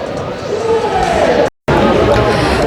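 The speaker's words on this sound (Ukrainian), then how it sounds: "Пробиваємося крізь натовп людей" Dense crowd babble fills the hall at the EICMA 2023 motorcycle show in Milan, a steady loud murmur of many voices close around, broken by a short cut of silence midway.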